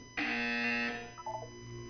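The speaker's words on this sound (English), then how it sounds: "You will hear a buzzer." In the video game Portal 2, a loud electronic buzzer sounds once for under a second, then fades into a few faint chiming tones over a low background hum.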